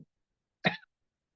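One short, sharp cough, close and fairly quiet, in otherwise near silence.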